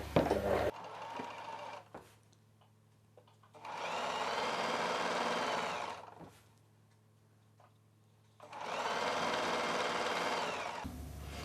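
A sewing machine stitches the double-folded edge of a lehenga lining in two steady bursts of whirring with quiet pauses and small clicks between them, close up and without speech.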